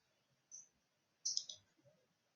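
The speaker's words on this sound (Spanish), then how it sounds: "hago clic ahí" Two quiet, sharp computer mouse clicks, one short and isolated and then a slightly longer double click a moment later, close and alone in a silent room while files are moved in Google Drive.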